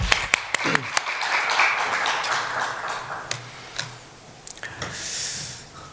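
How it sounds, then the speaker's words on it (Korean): A church congregation claps during a Sunday worship service, opening with a few separate claps that build into a mid-level round of applause. The applause fades toward the end as a voice and a few light taps come in. "하나님께 영광의 박수 올려드리겠습니다."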